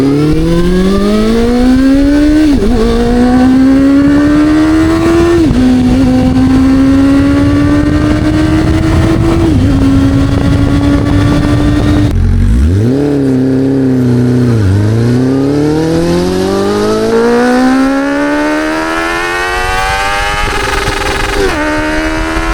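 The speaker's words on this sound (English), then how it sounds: "the deep and powerful roar coming from its hidden 4-cylinder engine" A restored 33-year-old Honda CB400 four-cylinder motorcycle engine revs hard and loud for over twenty seconds, its pitch climbing through repeated gear changes, dropping sharply, then rising again to a high-rpm wail.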